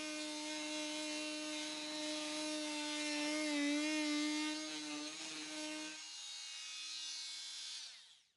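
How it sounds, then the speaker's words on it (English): A Dremel MM40 oscillating multitool with a 452 blade cutting and prying old glazing from a window frame, a steady loud buzzing whine that runs continuously for about six seconds, then drops to a lighter hum before stopping. "Work the glaze away from the frame using the 452 blade to simultaneously cut and pry the glazing."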